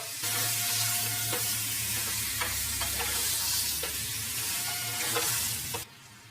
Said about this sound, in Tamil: மட்டனை வந்து இந்த அளவுக்கு நல்லா வதக்கிக்கணும். நல்லா சுருள வதக்கிடணும்.